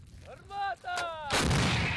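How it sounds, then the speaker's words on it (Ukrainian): An Italian FH70 towed howitzer fires, crewed by Ukrainian artillerymen in the field. A shouted voice comes first, then a single loud, close blast with a long, rumbling tail. "Гармата!"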